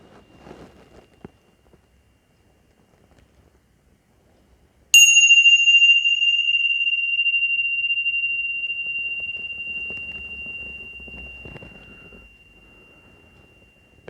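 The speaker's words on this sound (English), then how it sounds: "Wait for the sound of the bell." A single meditation bell is struck once and rings out with a long, clear, slowly fading tone, loud and close, after a quiet stretch with faint background rustling.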